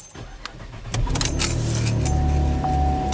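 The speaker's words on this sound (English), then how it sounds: "insert it back into the car, and now start the car as if it's actually a real, with the motor running" Keys jangle briefly, then a Cadillac CTS engine cranks and catches at about one second, settling into a steady, close idle hum with a faint whine.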